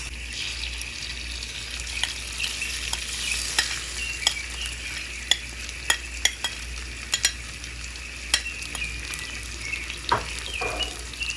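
Onion and peppers frying in a pan and being stirred, a steady broad sizzle with repeated sharp utensil scrapes and clicks against the pan throughout, close and fairly loud, with no talking.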